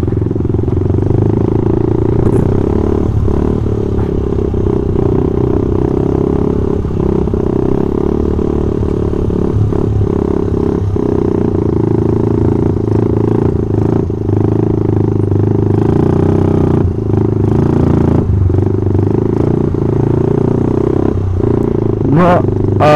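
A supermoto motorcycle riding on the road toward the Bromo sand sea, its engine droning steadily and loudly throughout with rattles and clatter, while a voice talks over it.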